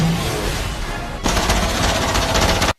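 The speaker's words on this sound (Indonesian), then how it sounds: "Namun, Craig menembakinya" Loud, dense gunfire rattles continuously, with an abrupt shift midway to a sharper, brighter burst before it cuts off.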